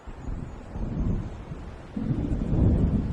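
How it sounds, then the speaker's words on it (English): Rolling low rumbles of thunder from an approaching storm in the game Alan Wake, swelling in two broad waves with wind-like noise, deep and sustained rather than sharp cracks. "It seems there's a storm coming."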